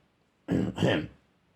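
Two quick, harsh coughs close to the mic, back to back, followed by quiet.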